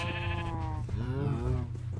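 Sheep in the video game Minecraft bleating in two clear, close calls, one after another, with no talking.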